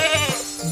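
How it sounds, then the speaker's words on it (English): A goat gives a short, wavering bleat, close and clear, followed by a second brief cry. "Goat."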